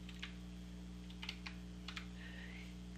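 A few sparse, light computer keyboard taps while renaming items in software, faint and near over a constant low electrical hum.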